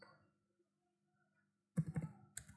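A computer keyboard being typed on during a login to an admin portal: after a long silence, a brief, faint cluster of quick clicking keystrokes, followed by a couple more isolated taps.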